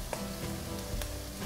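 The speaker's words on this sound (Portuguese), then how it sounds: "Vou acrescentar o frango cozido, desfiado." Cooked, shredded chicken frying in a pan for a pan-baked chicken pie, giving a steady close sizzle with light stirring scrapes and no talk.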